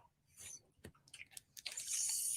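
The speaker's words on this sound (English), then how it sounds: "That's Molly chewing, not me" A cat chews nearby: soft, irregular crunching and wet mouth clicks in quick bursts, quiet and close, with no talk over them.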